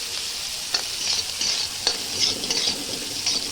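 Potatoes fry for poha in a pan while a spatula stirs them, a steady sizzle with repeated scraping strokes at an even pace, close and moderately loud, with no talking.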